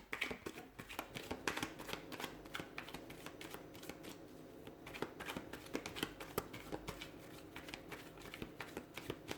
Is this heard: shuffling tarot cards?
yes